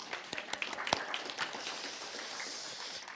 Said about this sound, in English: We have to applaud for that.